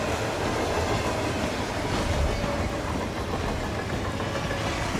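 A moving train in Hitman rumbles continuously, loud and close, with dense rolling wheel clatter and a faint metallic squeal over five seconds, and no one speaking.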